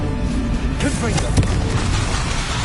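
Confringo blasting spell explosions in the Hogwarts Legacy video game, loud repeated booms and bursts layered under continuous combat noise and spoken voices.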